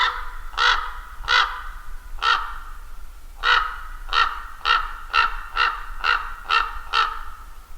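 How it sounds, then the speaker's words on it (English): A raven calls repeatedly, about a dozen harsh croaking notes in an irregular series, the later ones coming faster, moderately close with nothing else audible. "The call of the raven is more of a gronk."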